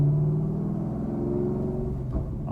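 A 2014 Chevrolet Camaro ZL1 with a six-speed manual gives a deep, steady engine rumble heard from inside the car, holding a low drone throughout.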